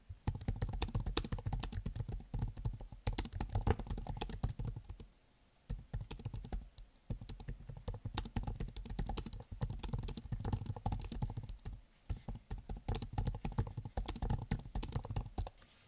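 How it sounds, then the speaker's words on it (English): Typing on a Surface Pro 13's detachable keyboard: close, quick runs of clicky keystrokes with a few brief pauses, heard alone and fairly loud. "So that's what it sounds like when typing."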